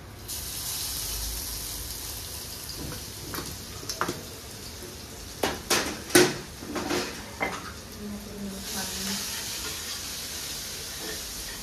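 Garlic, cumin and mustard seeds sizzle in hot oil for a moringa soup, a steady close hiss broken by a few sharp clinks of a pan or utensil.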